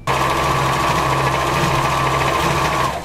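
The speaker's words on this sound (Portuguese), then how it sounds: "Com uma costura reta, eu vou prender essa lateral" Sewing machine stitching a straight side seam on a pair of panties, a steady, fast, close mechanical whir and hum running continuously for about three seconds with no talking.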